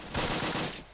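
Gunfire from the World War II strategy video game Close Combat, set in Normandy, comes as a single short rattling burst under a second long, moderately loud.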